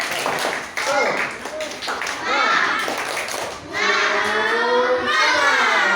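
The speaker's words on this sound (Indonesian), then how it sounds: "Tepuk semangat." A class of primary schoolchildren does a rhythmic spirit clap in unison, sharp patterned claps mixed with young voices shouting and chanting along, loud and close in a classroom.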